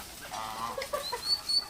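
Turkeys cluck softly in short, scattered bursts close by, with a few higher squawks near the end.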